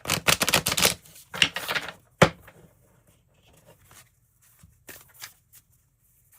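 Tarot cards are shuffled by hand in quick riffling bursts that are close and crisp, followed by a few softer taps and shuffles with quiet gaps between.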